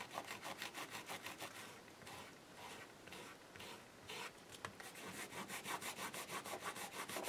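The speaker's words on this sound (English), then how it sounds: "you can use the eraser." An eraser rubs back and forth across a drawing in quick, rhythmic scratchy strokes, close and fairly faint, with a brief pause midway before the steady scrubbing resumes.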